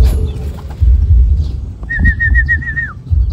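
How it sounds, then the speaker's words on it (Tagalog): Racing pigeons arriving at the loft after a 120 km training flight from Plaridel: a short rising whistled birdcall over a steady low rumble of background noise, fairly close, with no voices. "Ibon natin galing Plaridel."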